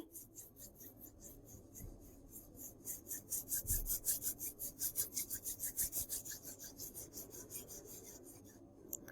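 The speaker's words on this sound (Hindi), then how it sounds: "अपने हृदय से प्रणाम करते हुए दोनों हाथों को रब कीजिए" Both hands rubbed briskly together during a guided meditation session, producing a steady series of soft, rhythmic rasping strokes close to the listener, quiet and alone with no talk.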